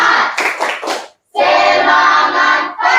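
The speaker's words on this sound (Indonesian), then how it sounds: "Tepuk semangat." Students in a computer-lesson classroom perform a rhythmic spirit clap, loud bursts of patterned hand claps with a short pause and then a longer sustained run of clapping and cheering.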